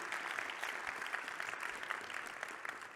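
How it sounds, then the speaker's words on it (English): An audience at the JSWorld 2022 developer conference applauds, a dense, even patter of many hands that stays steady and fairly faint throughout, heard alone. "please applause for, come on"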